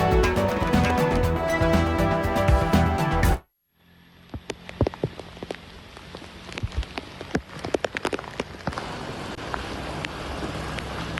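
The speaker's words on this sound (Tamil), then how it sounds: "புயலால் புதுச்சேரியில் இடைவிடாமல் கொட்டி தீர்க்கும் கனமழை." Heavy cyclone rain pouring in Puducherry: after a few seconds of unrelated music cuts off, a dense, steady hiss of downpour builds, sharp drop impacts crackling close over a constant wash of falling water.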